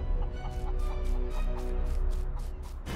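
Chicken clucking in a fantasy dungeon-management game, a run of short rhythmic clucks over steady game music and background noise, no voices.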